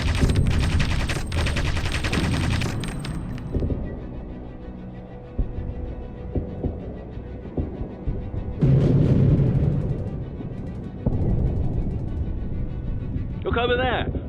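Portside machine guns of a WWII aircraft in the air-combat game Aviators rattle in dense continuous bursts, loud and close, over a droning engine, with heavy thuds and a later burst of fire; voices speak during it.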